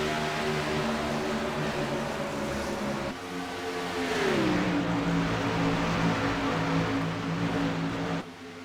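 Race cars lapping the track at Auto Club in an SRA Tornado Tailgater Series sim race: a continuous engine whine with clear harmonic tones that drop in pitch midway as a car lifts off, then hold steady at moderate distance.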